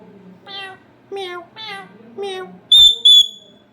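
A talking parrot imitates a cat's meow, giving four clear, close meow-like calls in a steady series, followed by two sharp high whistles.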